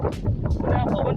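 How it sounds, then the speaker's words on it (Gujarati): Strong wind buffets the microphone in rural countryside of the Gir region, a steady broadband roar with gusts and rumble running through the whole clip, with no clear speech. "એવો પવન છે બધી ભૂક્કા કાઢી નાખે એવો પવન છે"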